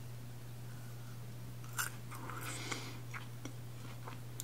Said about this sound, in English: So you can actually hear a little bit of a crunch from this.